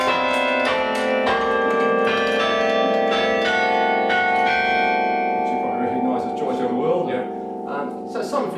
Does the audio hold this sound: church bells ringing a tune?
yes